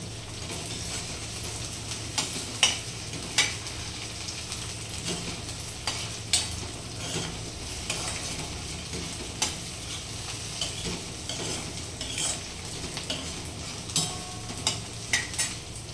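Coriander sizzles steadily in hot oil with browning onion for a cauliflower sabzi, a constant frying hiss broken by scattered spatula scrapes and taps against the pan, no voices.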